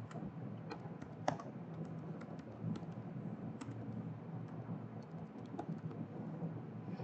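Someone types a category name on a computer keyboard: a quick, irregular run of light, close key clicks over a low room hum, with one slightly louder tap early on and no talking.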